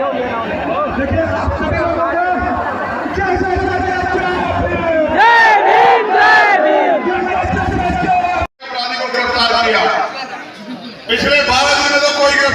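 A large outdoor crowd of villagers and supporters at a public rally in Vaishali, loud overlapping shouting and chanting voices close by, with a brief drop-out before the noise resumes.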